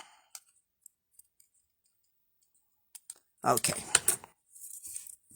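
Scissors snip a few quiet, spaced clicks while fussy cutting a design out of a card, followed by a louder burst of rustling paper and cutting; a voice speaks briefly.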